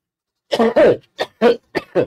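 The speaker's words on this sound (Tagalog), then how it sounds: "Bakit ako inuubo?" A series of harsh, close coughs in quick bursts, about six in a row with short pauses between them.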